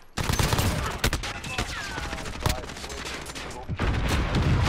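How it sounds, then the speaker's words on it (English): Shotgun blasts in an online multiplayer shooter game, several loud close shots in rapid succession among a dense burst of gunfire and game effects. "Still with the shotgun."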